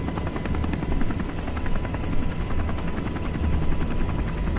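A Sikorsky UH-60 helicopter in flight gives a continuous thumping rotor drone with steady rhythmic beats and broadband roar throughout, no voices over it.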